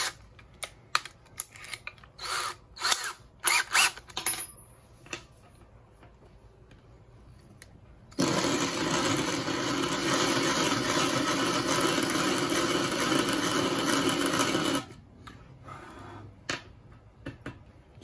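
A power drill boring a hole in a bead gives a steady, loud, close mechanical whir for about seven seconds, after scattered clicks and taps; brief tapping follows once it stops.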